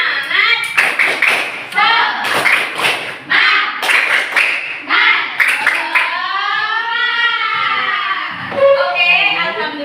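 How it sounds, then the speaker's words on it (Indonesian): A school class does the tepuk semangat clapping chant, bursts of rhythmic group claps alternating with children's shouted chanting, close and loud, followed by a drawn-out sung or called line. "kita tepuk dulu. Tepuk semangat"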